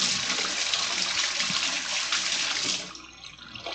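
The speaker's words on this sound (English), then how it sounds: "I can run this under the tap and wash off all the small stuff" Tap water runs over seeds in a sieve, a loud steady close gush of water that thins out briefly near the end, with no voices.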